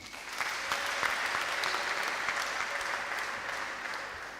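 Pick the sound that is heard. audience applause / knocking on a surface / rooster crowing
audience applause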